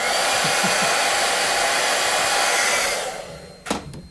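A hair dryer blows steadily and loudly on a chalk couture craft project for about three seconds, then winds down and shuts off, followed by a couple of brief handling knocks.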